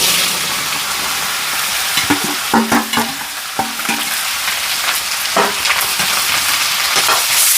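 Pumpkin greens are stirred in a hot pan tempered with mustard seeds, a steady frying sizzle broken by several scraping stirs and clinks of the spoon, close and alone without talk.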